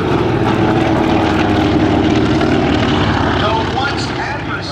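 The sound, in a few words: Japanese Zero and Douglas SBD Dauntless warbird propeller aircraft flying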